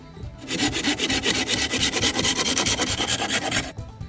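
A folding hand saw cuts through wood in fast, even back-and-forth strokes, loud and close, then stops abruptly as the piece comes free. No one talks.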